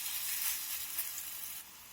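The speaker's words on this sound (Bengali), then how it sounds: "এখন আমি এই মিশ্রণ থেকে এই চামচের সাহায্যে অল্প অল্প করে নিয়ে এই তেলের মধ্যে দিয়ে দেব" Spoonfuls of green pea batter fry in hot oil in a kadai, giving a steady, bright, hissing sizzle close by that eases slightly toward the end, with no voices.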